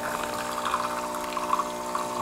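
A Gaggia Brera super-automatic espresso machine brews espresso through two spouts, with a low, steady pump hum under a soft trickling pour at close range.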